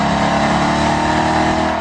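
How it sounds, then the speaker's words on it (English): A heavy V8 in a 2011 Ford Mustang, Camaro or Challenger SRT8 muscle car rumbles loud and steady throughout, a dense continuous engine drone with a sweet, rich tone and no voices. "Its heavy V8 also makes the most sweet, caramely V8 noise of any car here, if not any muscle car ever."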